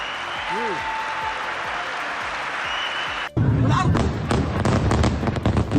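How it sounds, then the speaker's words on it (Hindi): Audience at a speech in Saudi Arabia: a brief voice, then a sudden burst of loud, dense, sustained clapping from a large crowd. "करीब 45 सेकंड तक केवल तालियां बजती रही।"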